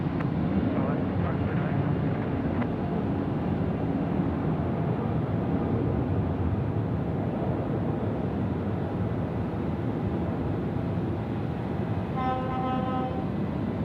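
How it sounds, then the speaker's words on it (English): A Jetstar Airbus A321 arriving from Cairns passes overhead at Sydney Airport as a loud, continuous broadband jet roar that stays steady throughout, with a faint tonal whine near the end. "Overhead there, another Jetstar service coming in from Cairns."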